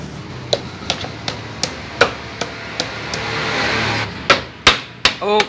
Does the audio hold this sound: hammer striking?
yes